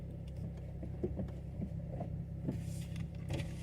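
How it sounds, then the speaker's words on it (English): Low mechanical whirring of an Acura TSX power window winding down, steady over engine rumble inside the car, with a few small clicks and knocks. "Make sure I wind down the window so I can hear everything."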